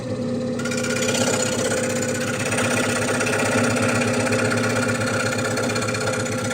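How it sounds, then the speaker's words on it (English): A scroll saw cuts 3 mm birch plywood, its motor running steadily with a fast rhythmic buzz throughout, loud and close with no talking. "This machine is not working hard at all to cut this wood."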